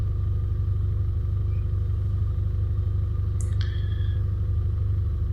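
A car engine rumbles steadily and loudly while trying to drive forwards out of deep ruts on a mountain track, a couple of faint high chirps briefly over it.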